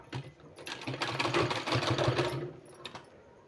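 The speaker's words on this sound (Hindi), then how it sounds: "इस तरह से फोल्ड करेंगे हम और इस तरह से सिलाई लगा देंगे।" A sewing machine stitches a folded fabric strip for a palazzo pant design, a steady rapid run that holds for about two and a half seconds, then eases off with a few short final stitches.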